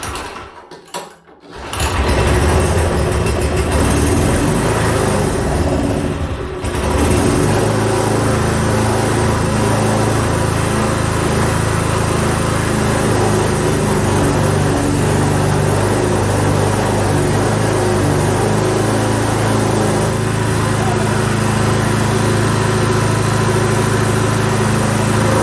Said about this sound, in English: Now these Tecumseh engines are not synchro balanced, so they shake quite a bit.